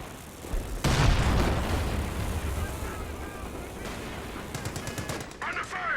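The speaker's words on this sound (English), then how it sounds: "look at this mortar cover. It's just wrecking these squads" Mortar and gunfire in the Company of Heroes 2 strategy game: booming impacts and rattling small-arms fire layered over a rumbling battlefield bed, with game voice lines and whistling shells near the end.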